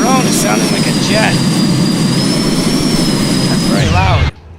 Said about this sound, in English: I guess the drone is sounding like a jet.